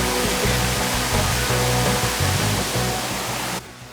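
Steady broadband rush of a creek flowing through a rainforest, loud and close, continuous for most of the clip before dropping away sharply near the end.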